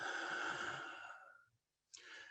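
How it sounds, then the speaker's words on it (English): A slow, deep breath drawn in during a guided self-massage exercise, a long airy inhale that fades out, then a short pause before another breath begins, close and clear with no talking. "Breathing in."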